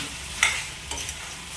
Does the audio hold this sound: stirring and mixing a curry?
yes